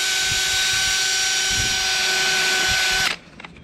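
Power drill spinning a Scotch-Brite ball pad inside a BBS multi-piece wheel, a steady loud high whine with faint scuffing underneath that cuts off abruptly near the end.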